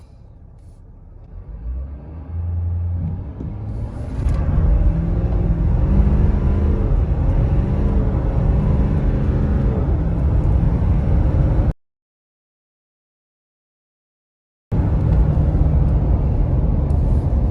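Ford F250 Super Duty with the 6.7L diesel, fitted with a Banks cold air intake, accelerating hard from a stop to 60 mph, heard as a deep engine roar building and holding loud up close, with a brief gap of silence.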